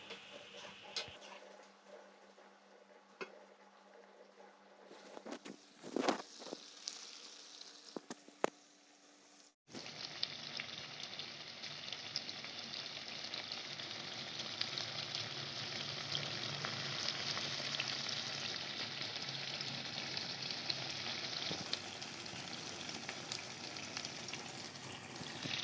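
A few green chillies sizzling in a hot pan while being stirred. A quiet stretch with scattered ticks and scraping comes first, then a sudden, steady frying hiss rises and continues with no voices.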